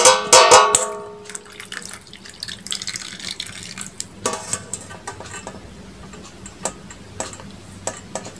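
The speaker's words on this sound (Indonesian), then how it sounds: "Kita saring. Kita buang airnya sini ya. Kita tiriskan dulu." Hot cooking water drained from boiled noodles through a strainer, a loud splashing pour at first that fades into scattered drips and small metallic ticks, close up and without talk.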